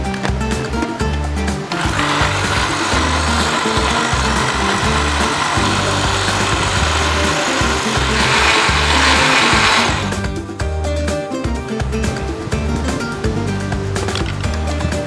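A kitchen blender runs steadily, whirring loud and close as it purees leafy greens with water on a cooking show, its motor pitch rising briefly midway before settling again, with no talk over it.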